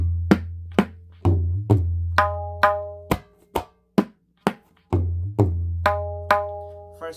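Tabla strokes in a steady practice pattern, mixing deep booming bass hits with sharp ringing treble taps, close and unaccompanied.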